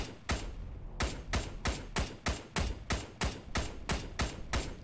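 ARMA 3 gunfire cracks out in a steady, evenly spaced series of about a dozen sharp, loud shots, each with a brief echoing tail, and no talking.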